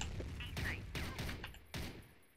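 Bursts of rapid gunfire from the video game CrossFire, a 9A91 rifle firing several separate volleys with short pauses between them.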